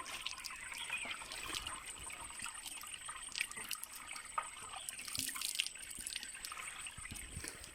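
Water flowing in through a bamboo pipe, piped roughly 50 metres into a garden or farm plot, gives a steady, fairly quiet trickle and splash that runs continuously, with no speech.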